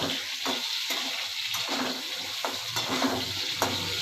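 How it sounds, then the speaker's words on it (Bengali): Pointed gourd pieces fry in hot oil in a pan for a fish curry, giving a constant loud sizzle with regular sharp scraping taps from stirring every half second or so. "পটলটা একটু ভাজা ভাজা করে নিচ্ছি।"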